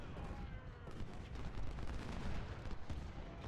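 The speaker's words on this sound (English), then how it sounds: "Please shoot your guns." Artillery fire against infantry in the Civil War strategy game Ultimate General: Civil War, a dense continuous rumble of overlapping cannon and gunfire booms with no talk.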